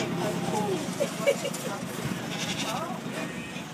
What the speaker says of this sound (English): Feed the animals. Feed the sheep.